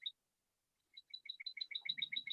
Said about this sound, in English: You can hear me and the beautiful birds.